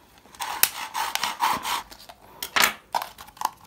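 Plastic PET bottle being cut at its second ridge, giving scraping, crinkly cutting strokes and small crackles in an irregular rhythm, close and moderately loud, with no talking.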